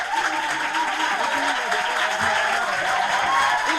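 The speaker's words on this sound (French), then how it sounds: "On applaudit pour eux." An audience at a school event between two lycées applauds arriving guests, a dense, steady wash of clapping that holds throughout, with a voice speaking over it.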